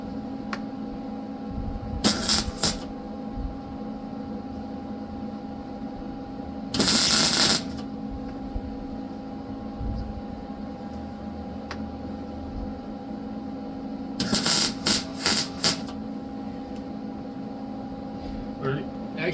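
Short bursts of welding on a chrome Harley-Davidson foot peg, crackling hissy spurts of a few seconds each over a constant machine hum, with talking nearby.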